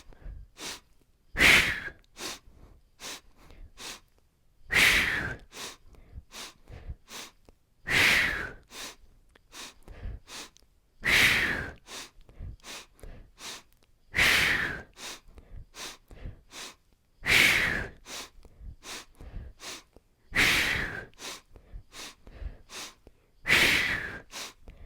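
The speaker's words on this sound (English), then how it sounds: "Inhale, exhale." Deep breathing in a guided mindful movement session: slow, audible inhales and exhales alternate in a regular cycle of about eight breaths, close and fairly loud, with faint soft sounds between and no speech.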